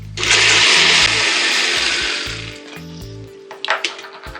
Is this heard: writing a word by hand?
no